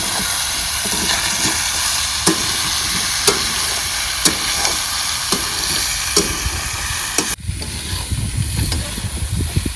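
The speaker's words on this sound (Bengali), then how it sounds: "বন্ধুরা মাংসটাকে ভালো করে কষতে হবে, দেখতে হবে যেন না লেগে যায় নিচে" Pork frying and being stirred in a pan for a picnic pork-and-rice dish, giving a steady, loud sizzle with a few sharp scrapes or taps at irregular intervals before the texture shifts near the end.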